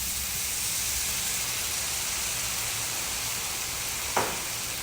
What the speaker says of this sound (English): We'll just stir these mushrooms around.